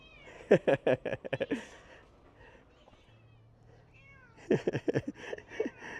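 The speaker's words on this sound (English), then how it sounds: "found me a little temple cat. She was meowing at me" A small cat at Wat Nang Ratchaworawihan, a historic royal temple, meows in a quick run of close, loud calls, goes quiet, then breaks into another burst of several meows.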